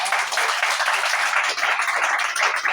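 A church congregation applauding and cheering in worship, dense continuous clapping from many people filling the room at a steady level.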